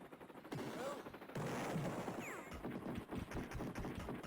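Rapid bursts of Amiga video game gunfire, dense and crackling, with a sharper burst kicking in partway and continuing to the end.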